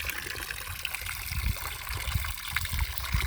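Water flows steadily from a natural spring in the Zagros highlands near a nomadic settlement, a continuous close trickling and splashing stream with low gurgles and faint bumps, and no talk.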